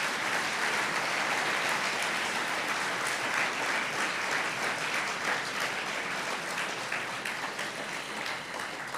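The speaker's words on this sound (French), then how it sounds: "Nous pouvons très chaleureusement, très sincèrement les applaudir et les saluer." Sustained, dense applause from an audience at a French evening presentation of scientific preparatory classes, steady and full for the whole stretch with no talk over it.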